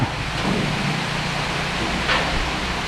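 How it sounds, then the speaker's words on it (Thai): Sudden heavy rain shower during a thunderstorm, a dense steady hiss of falling rain close by with a faint low rumble underneath and no voices. "จากแดดออกกลายเป็นฝนตก"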